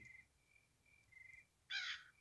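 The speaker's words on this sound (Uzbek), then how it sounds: "mana bu qarg'a bilan turibdi mana buyerda" A crow in the horror video game Granny 3 caws several times in a row, then gives one louder, harsher caw near the end, with no talk.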